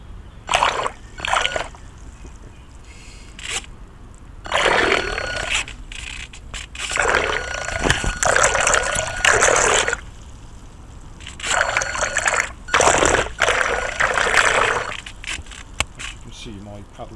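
An RC toy boat with a new motor runs in a paddling pool. Several bursts of motor buzz and water splashing and trickling come and go over several seconds, close by, with pauses between runs.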